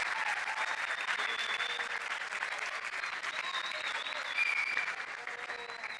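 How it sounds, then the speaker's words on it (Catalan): A school anniversary audience applauds students and teachers from several schools, a steady, moderately distant round of many hands clapping, with faint cheers and whistles threaded through. "Un aplaudiment per tots."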